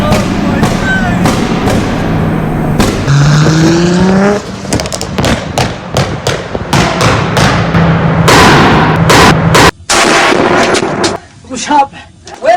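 A 700bhp Nissan Skyline R33 roars in a tunnel beside a supercharged Civic Type R, its engine rising and falling in loud, echoing revs punctuated by sharp bangs and pops, with voices exclaiming over it.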